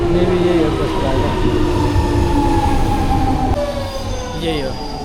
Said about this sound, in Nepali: अब खै के हो यो आयो है ट्रेन।